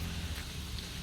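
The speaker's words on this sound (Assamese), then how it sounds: "এতিয়াও বৰষুণ দি আছে চাওক এইফালে বৰষুণ" Steady rain pours down around Sohra (Cherrapunji) in Meghalaya, a dense continuous hiss of drops on surfaces, close and unbroken through the short stretch with no talk.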